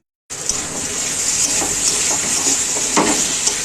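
Spices fry with paneer, pointed gourd and potato in a pan, giving a steady, close sizzle and crackle that runs almost the whole time, with a few louder stirring scrapes partway through.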